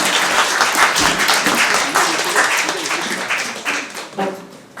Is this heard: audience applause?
yes